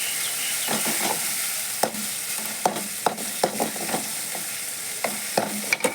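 Spices fry for a crab curry as a spoon stirs the pan, giving a steady sizzle with irregular scraping knocks, close and with no talk.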